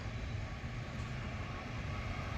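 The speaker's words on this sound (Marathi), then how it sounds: "ट्रेन आली तो मालगाडी आहे" A goods train arrives on a railway line as a steady, distant low rumble with a continuous broadband roar, unchanging over a couple of seconds.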